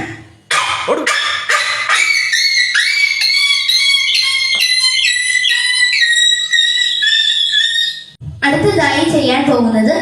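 A girl imitates a dog yelping in pain, voicing one long, continuous, loud, high, wavering yelp that holds for about seven seconds and then breaks off, followed by a short burst of further vocal sound.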